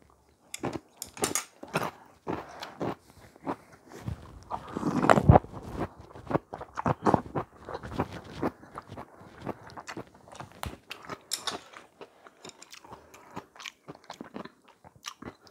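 Crisp crunching and chewing of kkakdugi radish kimchi eaten with pork gukbap, close up, in irregular bites with one louder, denser crunch partway through and softer mouth sounds between.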